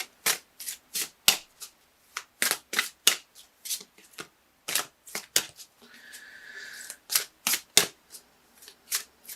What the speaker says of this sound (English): I'm just looking at these cards over here as I shuffle.